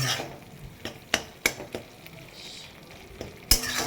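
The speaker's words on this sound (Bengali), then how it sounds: "এটাকে এবারে ভালো করে কষাবো যতক্ষণ না তেলটা ছেড়ে আসে" Mourala fish frying in oil while being stirred, with a low sizzle under sharp, scattered scrapes and clinks of a utensil against the pan, close and irregular, with no talk.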